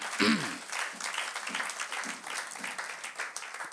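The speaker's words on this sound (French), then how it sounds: "Acclamons très fort le Seigneur" A church congregation claps and cheers during a Pentecost service, steady applause throughout, fairly distant and moderately loud, with a brief louder shout near the start.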